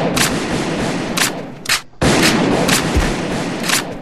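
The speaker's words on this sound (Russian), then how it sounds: "ты сразу вышел и сразу стрелял" Rapid bursts of gunfire in an online shooter game, loud and close, with sharp repeated shots running almost continuously and a brief gap midway.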